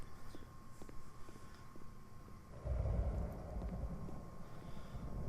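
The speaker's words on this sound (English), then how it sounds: "Oh, there's a thunderstorm now." A thunderstorm in the video game The Beginner's Guide rolls in as a deep, rumbling swell that rises suddenly partway through and lingers as a steady low roar, with faint wind-like hiss above.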